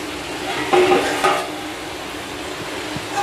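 Fish finger rolls frying gently in oil over low heat, with a soft continuous sizzle and a few brief stirring clinks and scrapes, no voices.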